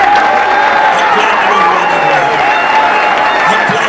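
A church worship congregation cheers loudly for the Lord. A dense, continuous crowd roar with raised voices holds at a steady high level throughout, with no pauses.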